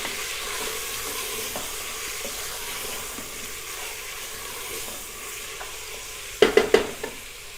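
Mutton with chopped green chillies sizzles in a pot as it is stirred, a continuous close hiss with soft scraping, ending in a quick run of three or four metallic clanks of the spoon against the pot.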